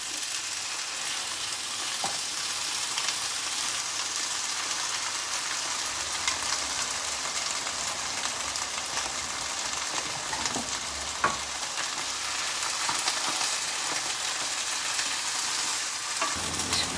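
Beans, spring onions and mushrooms frying in a pan give a steady close hiss and crackle that runs the whole time, broken by a few soft clinks of stirring.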